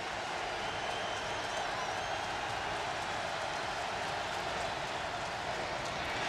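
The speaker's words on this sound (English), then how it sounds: "I think you're going to hear the Rocky Top crowd get into this one." A Tennessee home crowd at a 2005 college football game against Ole Miss cheers in a steady, distant roar, faint and unbroken throughout.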